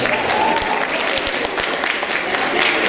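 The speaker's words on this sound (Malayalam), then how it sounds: "വലിയ കൈയടി" A crowd at a committee introduction gives dense, sustained applause as members stand on stage, loud and continuous throughout.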